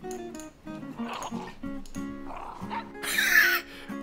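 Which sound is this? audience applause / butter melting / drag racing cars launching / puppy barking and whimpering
puppy barking and whimpering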